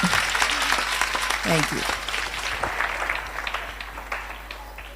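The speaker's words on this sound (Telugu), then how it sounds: "ఇందిరాని కూడా మన అందరం ఒకసారి చప్పట్లు కొట్టి అభినందించుదాం." An audience at a children's home festival claps to honour a teacher, giving a dense burst of applause that slowly fades, while a voice speaks briefly over it.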